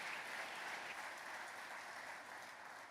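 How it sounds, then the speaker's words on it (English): A large audience at a Tesla investor event in Texas breaks into sustained applause, a dense wash of clapping heard at moderate distance that fades slightly toward the end. "A huge round of applause, please."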